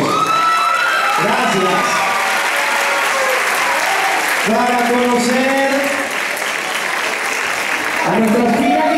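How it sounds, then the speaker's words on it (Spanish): A pageant audience at a children's modelling contest in Venezuela claps and cheers loudly for the whole stretch, with whoops and a presenter speaking over the crowd. "Las despedimos con el señor consejero, con el más fuerte de los aplausos."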